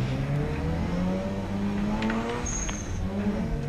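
Classic Thunder Saloon and Blue Oval Ford saloon race cars lapping at Brands Hatch, several engines roaring and shifting pitch together as they pass, loud and continuous with a brief high tyre squeal near the end.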